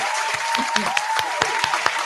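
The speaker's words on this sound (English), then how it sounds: "I'm going to clap for that" A few scattered claps ring out during a conversation about anxiety, sharp, separate hits over a steady humming tone in the background.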